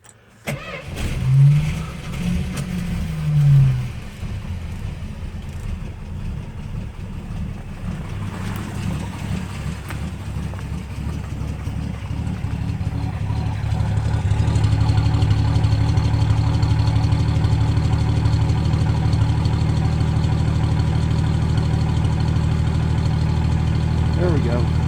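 A 53-year-old Slant Six engine cranks and fires in 12°F cold, then settles into a steady, loud, low rumbling idle that grows fuller after about fifteen seconds; brief talk can be heard near the start.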